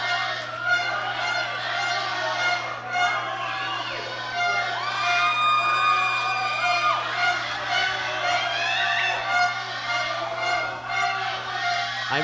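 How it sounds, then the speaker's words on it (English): A packed arena crowd roars and cheers continuously at a junior powerlifting world championship, loud dense crowd noise with shouts and whoops swelling throughout, with a commentator's voice woven in underneath. "I'm not sure you can even hear us on the live stream because of the crowd"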